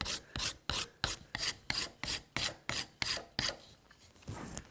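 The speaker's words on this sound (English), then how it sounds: "since there's so little wood to take off, I'm going to scrape it." A blade scrapes wood while a reamer is fine-tuned, making about a dozen evenly paced, raspy strokes close up, each one a short hiss, with the last few fainter and slower.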